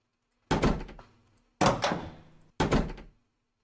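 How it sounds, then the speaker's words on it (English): Three separate door-closing thuds from the Roblox audio library, each a sharp, close impact with a short decaying tail, spaced about a second apart. "So let me get a door close sound."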